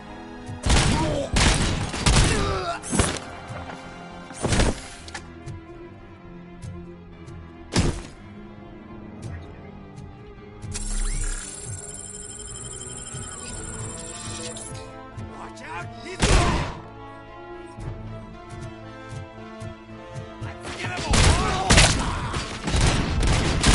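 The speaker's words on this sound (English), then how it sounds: "they love throwing grenades" Grenades hurled and bursting in a shooter game, several sharp loud blasts scattered across the span in clusters, with quieter gaps and game noise between them.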